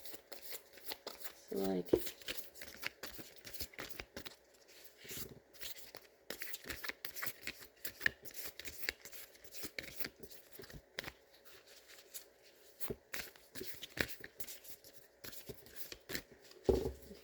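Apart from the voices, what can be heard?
tarot cards shuffling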